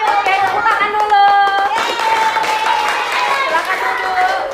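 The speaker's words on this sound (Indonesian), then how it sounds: "Nah, oke, tepuk tangan dulu." Elementary schoolchildren clap their hands together in a classroom after a game, a lively, close burst of many small hands mixed with children's voices and chatter throughout.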